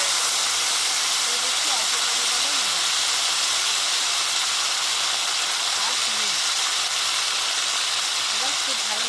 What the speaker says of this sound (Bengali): এবার খুব ভালোভাবে কচুটাকে আগে ভেজে নেব, লাল লাল করে ভাজবো।